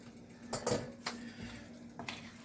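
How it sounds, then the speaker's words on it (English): Rigatoni with Pecorino Romano being stirred in a pot, a few quiet metallic knocks and scrapes of a utensil against the pot with pauses between them, no voices. "And you're going to stir this up."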